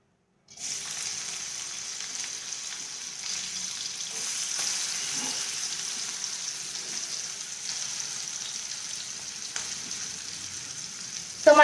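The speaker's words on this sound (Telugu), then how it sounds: "ఇంకొండ ఆయిల్ కాగిపోయింది. మనకి వెజిటబుల్స్ అన్ని ఇందులో వేసేసుకుందాం." Vegetables for upma frying in hot oil, a steady, close sizzle running throughout with faint pan clinks, no talking.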